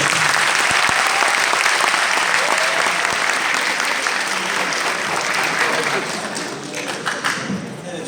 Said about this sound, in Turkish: alkışlarınızla gençler